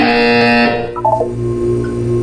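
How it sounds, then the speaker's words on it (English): A loud, harsh buzzer blares for well under a second in the video game Portal 2, then cuts off, leaving a steady low hum. "You will hear a buzzer. When you hear the buzzer, look up at the ceiling."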